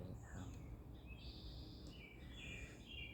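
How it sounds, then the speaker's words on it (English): Several birds sing and chirp continuously at a moderate distance in a park, bright overlapping calls over a low outdoor rumble. "The birds, as you can hear, are serenading us as I record this."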